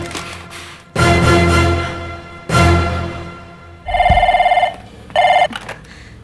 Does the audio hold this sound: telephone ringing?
yes